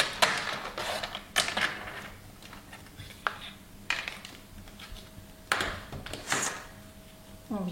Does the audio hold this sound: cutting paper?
yes